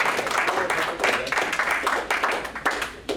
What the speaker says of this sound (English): Please give yourselves a round of applause for being here tonight